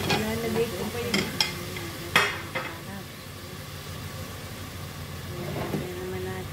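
Chicken congee (lugaw) gets stirred in a pot, a spoon scraping and knocking in a few brief clattering strokes over a soft sizzle and low background hum, no talk.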